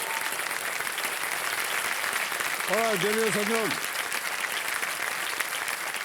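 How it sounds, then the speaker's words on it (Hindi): A studio audience at a quiz show applauds a contestant with continuous, dense clapping throughout, while someone speaks briefly over the applause partway through. "तालियां बज जाएं इनके लिए"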